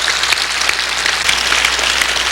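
A church congregation applauds together at a Sunday worship service, a dense, steady wash of many hands clapping close and loud throughout, with no talking over it.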